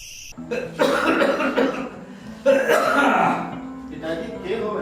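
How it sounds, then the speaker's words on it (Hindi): A man coughs in a domestic scene, several harsh bursts in two clusters, loud and close, with voices overlapping in the background. "कभी कभी खांसी से उठ जावे।"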